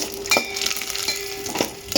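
Almonds and cashews frying in ghee in a pan, a close steady sizzle broken by a few sharp scraping stirs and utensil clinks, with no voices.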